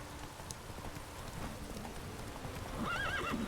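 Roach, Geralt's horse in The Witcher 3, trotting with soft clip-clopping hooves, then letting out a clear, wavering whinny near the end, all heard without speech.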